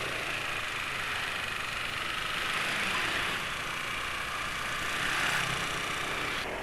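A Yamaha NMAX scooter engine runs at a steady idle, a continuous, moderately faint rough hum with a slight rattle that holds an even level throughout, with no talk.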